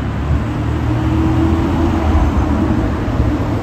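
A Ferrari 512 TR passing on a Paris street, a steady low engine rumble with traffic noise, continuous and fairly loud without a clear rise or fall.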